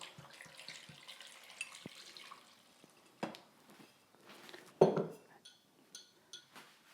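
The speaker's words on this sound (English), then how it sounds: "Now I'm going to go in my red wine." Red wine poured into a pot for a slow-cooked lamb shank sauce with onions, heard as a faint, brief liquid glug and splash among light kitchen clinks.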